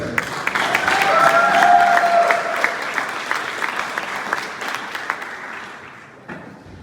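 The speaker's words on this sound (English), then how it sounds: "Let's hear it for the number 21K of Jacob Kolchak." A crowd at Shadyhill Speedway claps and cheers steadily after a late model race feature win, the applause swelling early then gradually thinning out toward the end.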